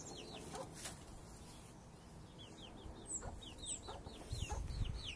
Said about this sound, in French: le coq là, la jeune poule ici, la maman, le papa.